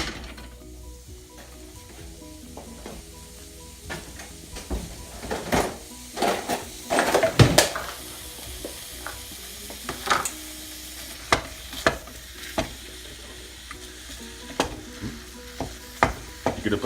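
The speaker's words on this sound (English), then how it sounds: "You're going to have a heated pan and put the ground beef in." Ground beef sizzles steadily in a heated pan, with a constant frying hiss broken by sharp, louder scrapes and clacks of a utensil stirring and breaking up the meat, close by and with no talking.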